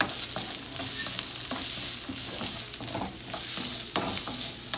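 Onion frying and sizzling in a pan while being stirred, a steady close crackle with occasional scraping clicks and no voices.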